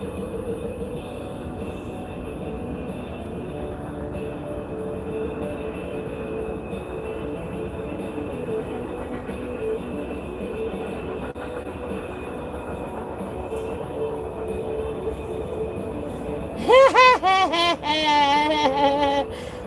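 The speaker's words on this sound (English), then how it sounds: "Yes, that was the train" A train rolls past with a steady, loud rumble that holds for most of the stretch, then a sharp, high squeal or whistle bursts out near the end.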